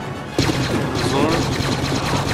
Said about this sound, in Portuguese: Ops, tem um tiro ali pro lado esquerdo.